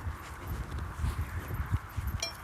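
A horse walks at a steady pace, its hooves clip-clopping in an even rhythm of soft, low thuds at moderate distance.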